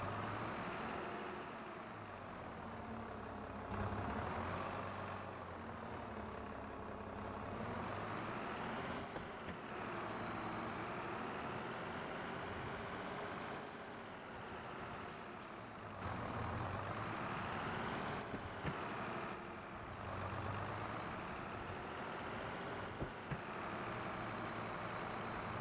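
A farm machine engine in Farming Simulator drones steadily for the whole stretch, a heavy, even rumble with slight swells in revs and a few brief clicks, quiet and without any voices.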